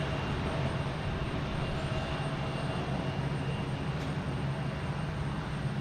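Airplane at Boston Logan Airport on a hot, humid morning, heard as a steady, loud broadband engine roar that holds evenly throughout without voices.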